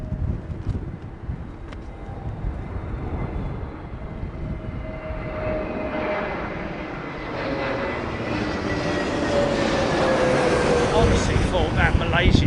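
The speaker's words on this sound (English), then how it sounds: "Honestly thought that Malaysian jet was going around, man. Did you hear him power it up literally 100 yards in front of me?" A Malaysian jet airliner powers up its engines for a go-around close by at London Heathrow during Storm Darragh, a loud roar that swells and rises in pitch over several seconds amid gusty wind buffeting.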